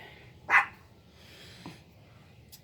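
A dog gives a single sharp bark, fairly close, then a few fainter yips in a quiet room during an acrylic paint pour on a vinyl record.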